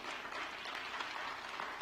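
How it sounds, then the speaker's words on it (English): Faint, steady applause from an awards ceremony audience, a continuous even wash of clapping throughout at low level. "Let's give them a round of applause for those two folks."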